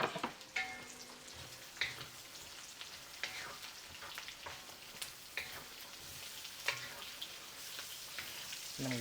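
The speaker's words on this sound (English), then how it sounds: "Onions go in." Onions cook in a pan, giving a soft, steady sizzle and crackle, with occasional clinks and scraping stirs, faint and close with no talking.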